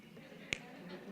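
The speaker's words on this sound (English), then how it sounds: "snapping on beat, right?" A single sharp finger snap cracks out once, close and brief, over a low hum of room noise at a Black History Month opening ceremony at College of DuPage.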